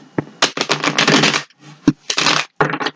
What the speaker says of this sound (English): Let's give the deck a couple shuffles.